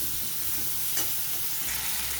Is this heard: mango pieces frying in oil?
yes